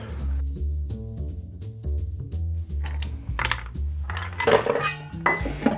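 Ice cubes dropped into a glass for a margarita on the rocks, giving a run of clinks and clatters over steady background music.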